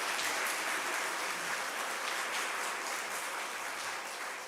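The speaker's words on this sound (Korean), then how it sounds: "감사의 박수 올려드리겠습니다" Audience applause fills a church hall at a regional joint revival meeting, a dense, steady clapping from a large congregation lasting throughout and fading slightly at the end, with no talking over it.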